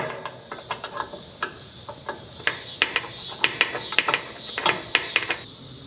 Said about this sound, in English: So I'm gonna remove my core valves.